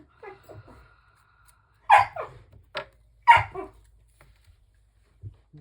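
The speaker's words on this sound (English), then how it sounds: "the dog's gonna start now" A dog yips and whimpers in short bursts, two louder barking cries in the middle between softer whines, close by and indoors with no talk.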